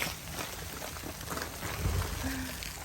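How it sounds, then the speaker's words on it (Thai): Steady rain falls outdoors in Sweden on a day of rain and small hail, a constant close hiss and patter filling the whole moment, with a faint low voice-like sound briefly underneath. "ฝนตกทั้งวันนะทุกคน"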